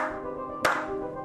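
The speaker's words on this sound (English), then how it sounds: "A slow clap emerges from behind." A single sharp hand clap rings out partway through, standing alone against a steady, sustained musical drone as part of a slow clap in an audio story.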